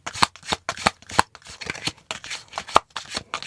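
A deck of oracle cards being shuffled by hand close up, with a run of quick riffling bursts and soft slaps in an uneven rhythm, no talking over it.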